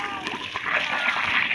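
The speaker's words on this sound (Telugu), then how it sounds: "ఇద్దరమే ట్రాన్స్ఫారం నీళ్ళు పోస్తున్నాము." Water is poured and splashes onto the earthing of an electrical transformer outdoors, a continuous close splashing with voices talking over it.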